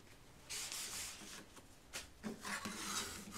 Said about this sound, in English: Use my big old spatula to get that nice and stuck.